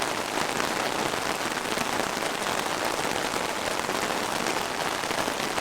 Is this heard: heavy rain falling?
yes